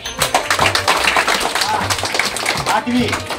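Children at a zilla parishad primary school in Chalburga clap for scholarship winners, a dense, steady patter of many small hands running throughout, with voices mixed in underneath.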